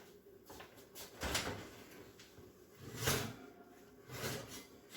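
Oven door in a hot home kitchen opened to take out a pan of cornbread: soft creaks and muffled thumps of the door and rack, close but faint, with a few rustling handling sounds.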